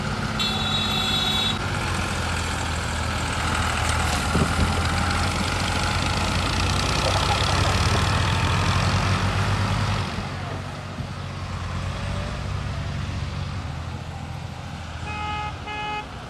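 A heavy diesel tractor engine rumbles and strains steadily nearby on a village road, with beeping horns and other traffic sounds mixed in.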